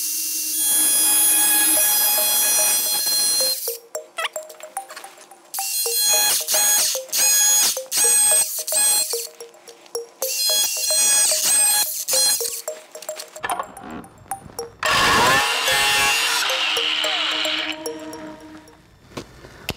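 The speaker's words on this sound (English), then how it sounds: "All right, so I'm gonna opt for the cutoff wheel method." Cutoff wheel grinding through metal in a car engine bay during a clutch master cylinder install on an FRS/BRZ, loud high-pitched bursts of cutting broken by pauses, several separate passes close to the microphone.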